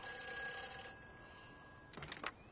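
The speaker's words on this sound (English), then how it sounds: "It's a ringing phone." A telephone rings steadily inside the exploration game Everybody's Gone to the Rapture, a thin, sustained electronic tone at low volume that stops and gives way to a short burst of louder clatter near the end.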